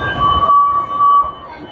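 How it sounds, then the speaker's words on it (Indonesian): An MTR train at a Hong Kong station gives a steady high electronic tone or chime over low rumbling platform noise, lasting about a second before fading. "2 menit lagi itu datang keretanya ya"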